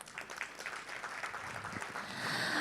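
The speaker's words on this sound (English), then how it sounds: "Can we have a round of applause, please?" Conference attendees at a global additive manufacturing summit give a round of applause, a dense, moderately quiet clatter of hands that blurs into a steadier wash of room noise toward the end.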